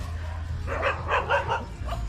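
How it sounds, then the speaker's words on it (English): Street dogs fighting on Koh Phangan give a quick run of yelping barks and yips at moderate distance over a low background hum. "Oh, soy dogs fighting."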